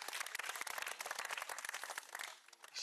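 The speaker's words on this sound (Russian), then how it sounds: "Также ваши аплодисменты." An audience at a youth municipal forum on healthy lifestyles in Labinsk gives a sustained round of applause, dense and even throughout, dipping slightly near the end.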